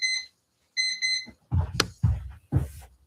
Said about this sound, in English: Is that the alarm?